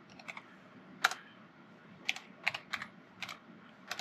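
Quiet, irregular keystrokes on a computer keyboard while entering commands on an Orange Pi 5 single-board computer, scattered clicks in short bursts with pauses, close and soft.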